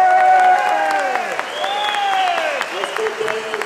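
A rally crowd applauds in honour of striking oil workers, with steady clapping filling the space while raised voices sound over it throughout.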